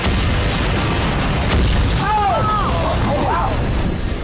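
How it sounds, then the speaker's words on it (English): A car dropped onto a naval mine detonates outdoors in a demolition build contest, setting off a second blast in a trailer: a loud, sustained roaring boom with rumbling debris, followed by whooping, excited voices. "I mean, that was the biggest explosion I've ever seen."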